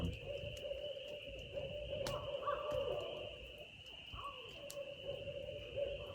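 Nighttime owl hooting in the Adirondack woods: faint, distant low calls repeat at uneven intervals over a constant high insect whine, with occasional sharp ticks close by.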